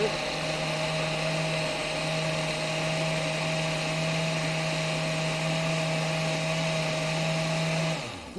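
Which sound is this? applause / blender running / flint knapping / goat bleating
blender running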